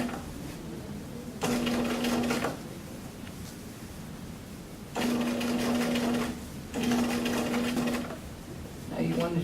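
A sewing machine runs in three steady bursts of rapid stitching while top stitching along the edge of a garment cuff, with quiet pauses between runs and a voice speaking over the machine.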